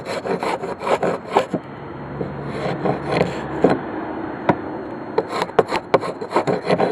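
Old paint being scraped off wooden trim in a series of rough, rasping scrapes, close and fairly loud, with short pauses between strokes and no talking.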